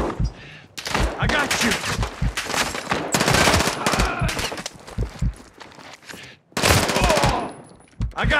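Call of Duty: Modern Warfare II combat, with loud, dense automatic gunfire in long rattling bursts separated by brief gaps, and shouted voices heard between and over the shots.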